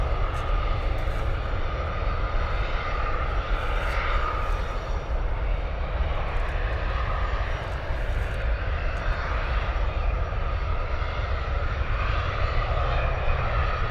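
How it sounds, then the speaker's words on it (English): An Airbus A380 jet takes off from runway 28 Right at San Francisco airport, its engines roaring in a loud, steady, broadband rumble that holds without a break, with no voices over it. "With A380. This one is lined up on the longest runway here at SFO, San Francisco."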